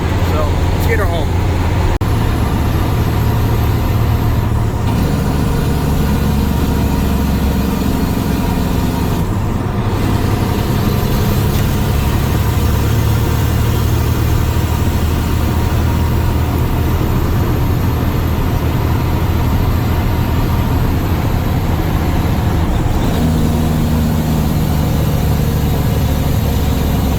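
A 1994 Ford L9000 Aeromax day cab tandem truck with a Cat diesel engine runs continuously, a loud, steady drone of engine and road noise with shifts in pitch and a few brief breaks in the rumble.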